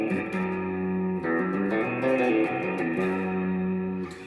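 Twangy surf-style electric guitar plays a melodic line picked near the bridge, the notes ringing with effects-unit reverb and distortion, heard alone and up close.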